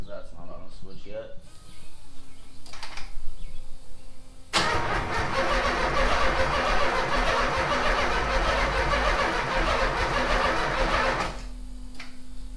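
An LS-swapped Nissan 280ZX cranks briefly, then fires and roars into a loud, steady idle that runs for several seconds before easing off, with people talking nearby at the start.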